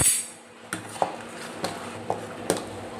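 A spoon clinks against a pot while stirring spices into Gujarati khatti meethi dal, giving about six sharp metallic taps at uneven intervals over a quiet background, with no talking.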